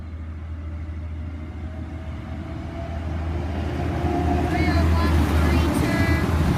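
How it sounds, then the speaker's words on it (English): An Adelaide train pulls into Eden Hills station with a steady low rumble that grows gradually louder as it approaches, and faint squeals appear near the end. "there's a train to the city, to Adelaide. Coming in here"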